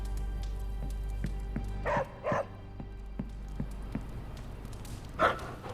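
A dog named in the Marvel's Midnight Suns video game barks in several sharp bursts, one pair close together and a later single bark. A steady low hum and faint ticking run underneath.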